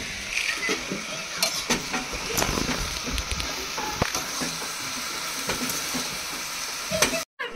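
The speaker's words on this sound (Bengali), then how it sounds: "এখানে বাঁধাকপির সবজি রান্না হচ্ছে" Cabbage curry cooking in a pot at an outdoor family picnic, with a steady close sizzle and repeated scraping stirs throughout.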